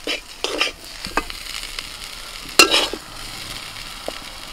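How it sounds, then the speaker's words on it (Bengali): Spicy mushrooms with a little potato fry in a pan, with a few sharp scraping stirs and clattering spatula strokes over a soft, steady sizzle, close by and with no talking. "মশলাদার মাশরুম আমার ভাজা হয়ে গেল"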